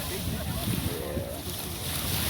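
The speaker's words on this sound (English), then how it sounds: "I hope the people can hear us on the camera with all that wind." Wind buffeting a camera microphone beside open water, a steady low rumble with gusty swells filling the whole clip, with boat and water noise mixed in.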